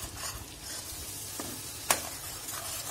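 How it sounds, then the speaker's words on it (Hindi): Onion, ginger-garlic paste and ground masala of green chili and coriander frying in a pan for egg curry, giving a steady soft sizzle with stirring and one sharp scrape, close and with no voices. "और इसको हमें पांच मिनट भूनना है"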